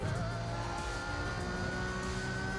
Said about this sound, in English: Like the V10 and the V12 cars in this game sound absolutely amazing.